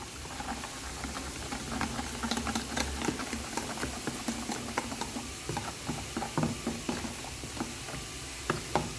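Flour being mixed into a dough in a bowl, a steady close scraping and stirring with repeated small clicks and wet patters, continuing on its own without talk.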